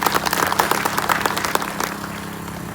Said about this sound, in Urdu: ڈڈیال کے شہریوں کی طرف سے تالیوں کی شکل میں خوش آمدید کہتا ہوں